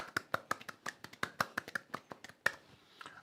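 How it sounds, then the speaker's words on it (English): A small audience claps in a round of applause, a sparse run of sharp, separate hand claps close to the mic that slowly fade out. "Let's give Matt a round of applause, everyone."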